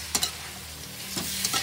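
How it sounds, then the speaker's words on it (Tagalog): Onion frying in oil in a pan gives a soft steady sizzle, punctuated by a couple of quick scraping stirs near the start and end, close and fairly quiet. "Hintayin lang natin maluto yung ating sibuyas bago natin ilalagay yung ating chicken"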